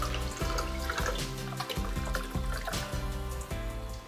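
Saint-Géron naturally sparkling water pours steadily into a glass at a restaurant table, a continuous close splashing trickle with soft fizz and repeated gurgling pulses throughout.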